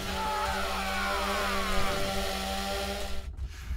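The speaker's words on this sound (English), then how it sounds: "That was a chainsaw." A chainsaw from a horror video game drones steadily at a fair distance, with a continuous buzzing motor tone that holds for several seconds before cutting away near the end.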